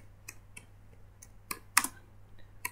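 Sparse, irregular keystrokes on a computer keyboard, a handful of sharp clicks spaced apart over a quiet low hum.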